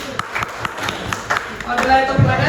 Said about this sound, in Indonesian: Tepuk tangan untuk pengawas dulu